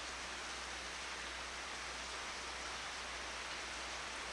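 Rain falling steadily outdoors, a faint continuous hiss with no distinct drops and no talk, with a low hum underneath.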